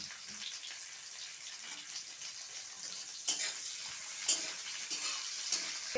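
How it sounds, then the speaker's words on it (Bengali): Chopped onion hits hot oil already seasoned with bay leaves and whole cumin, giving a steady close sizzle and crackle throughout, with a few brief sharper pops and spatters along the way and no voices. "এখন আমি এই যে পেঁয়াজ কুচিটা দিয়ে দিচ্ছি"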